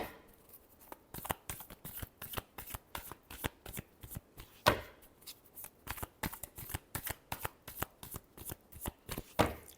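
Tarot cards being shuffled in a long run of quick, crisp riffling bursts that repeat at an irregular pace, close and fairly quiet, with no talking.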